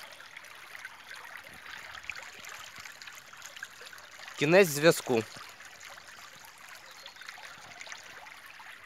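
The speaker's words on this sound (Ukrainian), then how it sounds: "Дуже круто зараз знаходитись ввечері біля річки" Steady flowing water of a river in the evening runs throughout, a continuous watery rush, with a short burst of speech partway through.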